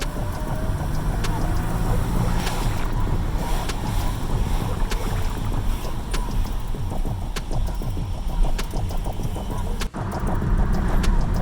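A Magnuson-supercharged 2019 Jeep JL driving and accelerating, heard as a steady loud engine and road drone with heavy wind rush buffeting the microphone and a brief dip near the end.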